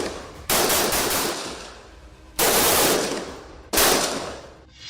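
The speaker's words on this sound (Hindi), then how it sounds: "परंतु आतंकवादियों ने घेरा तोड़ने के लिए टीम पर अंधाधुंध फायरिंग शुरू कर दी।" Three long, loud bursts of rapid automatic gunfire tear through the air one after another, each cut off sharply, in an indiscriminate firefight by terrorists against a commando team.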